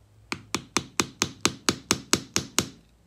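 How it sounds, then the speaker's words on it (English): Hammer tapping a wooden dowel to seat a primer while hand loading black powder shotshells without a press, eleven sharp, evenly spaced taps, close and alone. "you just get the hammer and knocks the primer in"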